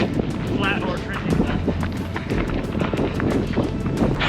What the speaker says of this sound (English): The wind gusts are pretty brutal